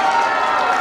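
A crowd at a gathering applauds a child, a brief, loud, dense wash of clapping with voices cheering through it.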